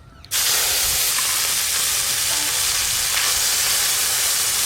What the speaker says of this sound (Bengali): এইগুলো আর একবারে ভেজে নেব।